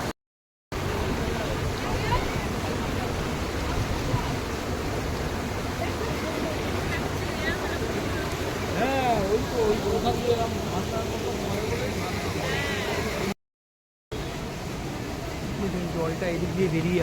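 Water from Ghagra waterfall rushing over rocks, a steady broadband roar filling the whole scene, with a person talking over it and brief dropouts.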